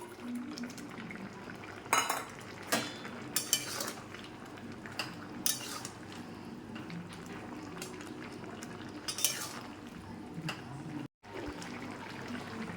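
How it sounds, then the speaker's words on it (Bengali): Fried eggplant, bitter gourd and lentil dumplings going into a pan of bubbling Bengali shukto, with faint steady simmering broken by several sharp clinks of utensils against the pan, close by. "এবার আমি এটার মধ্যে দিয়ে দেবো ভেজে রাখা বেগুন আর উচ্ছেটা, আর দিয়ে দেবো ডালের বড়ি"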